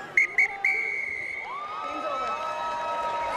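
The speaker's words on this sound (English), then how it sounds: "come on, full time whistle" A referee's whistle ends a women's rugby test between New Zealand and Australia: three short, shrill blasts and then one long held blast, over the steady roar of a cheering stadium crowd.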